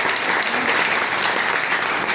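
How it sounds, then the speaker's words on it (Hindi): Enthusiastic audience applause welcoming a guest speaker at a marketing seminar, a brief, loud, uniform wash of clapping from a large crowd. "मेरे मित्र अरुण चतुर्वेदी जी के लिए जबरदस्त तालियां"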